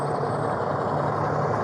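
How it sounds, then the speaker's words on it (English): A large truck rumbles steadily and loudly nearby, a continuous low engine drone with no speech over it. "That truck's going to be really loud."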